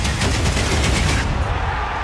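Rapid, loud automatic gunfire in the tactical shooter Counter-Strike during a professional esports match, shots rattling in quick succession before tapering off into a softer tail.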